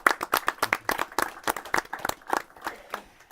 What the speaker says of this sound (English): let's all give ourselves a big round of applause to start things off